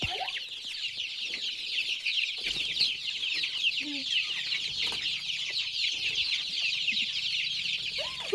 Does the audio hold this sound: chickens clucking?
yes